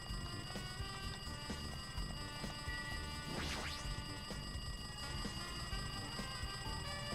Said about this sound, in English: Looks like that phone is ringing.